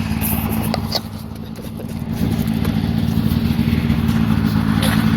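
A Ski-Doo Edge X 600 snowmobile engine runs to burn the carburetors dry, a steady close idle with a rough mechanical clatter that gets a little louder partway through.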